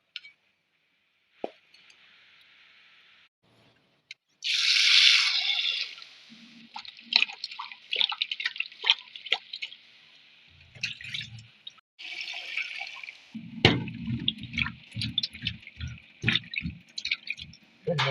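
Yam tubers are washed by hand in water, with splashes, plops and drips coming in irregular bursts, some quiet gaps between them and a few sharper knocks.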